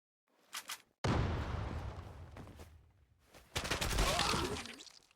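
Bursts of Groza assault rifle fire in the online shooter Zula, a loud sustained volley followed by a second heavy burst, with brief faint sounds before.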